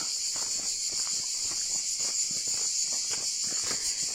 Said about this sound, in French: Les cigales.